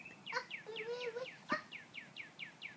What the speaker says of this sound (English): You hear the bird?